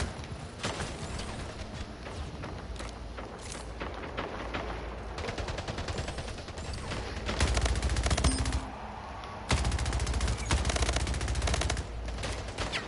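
Rapid automatic gunfire from the Splitgate video game rattles in dense, loud bursts, continuous volleys with brief pauses between them and no talking.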